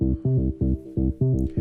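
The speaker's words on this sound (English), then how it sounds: "I've divided the bass signal across to a little bit of a Moog bass" A Moog synth bass split with a lower octave layer and bussed together, processed with OTT, sidechain compression and EQ for progressive house, plays a pumping pattern of short sustained notes with rhythmic ducking, alone and loud.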